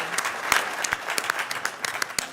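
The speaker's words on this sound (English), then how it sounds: "let me ask for another round of applause for our retirees" A round of applause for agency retirees at a transit board of directors meeting, a room of people clapping steadily with sharp individual claps standing out, fairly close and unbroken.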